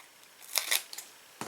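Scissors snip through paper while a bookmark is being cut, giving two quick, crisp cuts close by in a quiet room. A faint rustle follows, then one more short cut at the end.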